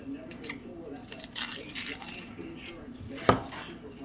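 A knife cuts an onion on a cutting board with soft, quiet strokes and one sharp knock near the end, beneath a person talking.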